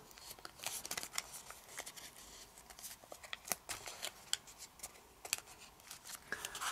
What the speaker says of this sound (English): And now fold these flaps like this.